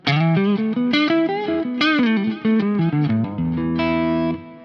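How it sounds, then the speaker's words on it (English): An electric guitar on the neck single-coil pickup through a Laney amp, volume rolled down, plays a lively melodic phrase with a mostly clean tone and a touch of grit, notes ringing out with a sustained chord at the end. "almost clean. It's just like a little bit of breakup."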